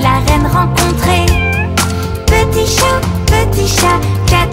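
A cartoon cat meows repeatedly inside a French children's action song, its bright, sliding cries riding over a loud, busy musical backing with a steady beat.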